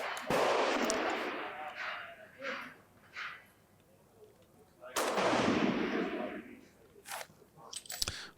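Gunshots at a shooting match ring out as a few loud, widely spaced blasts with long echoing tails, alongside fainter bangs and background chatter.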